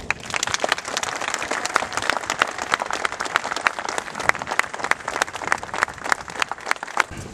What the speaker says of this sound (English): I think we should start with a round of applause.